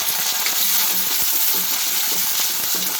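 Onions frying in hot oil after mustard seeds for a hotel-style onion sambar, a dense, continuous crackling sizzle with small popping ticks, close and loud without any voices.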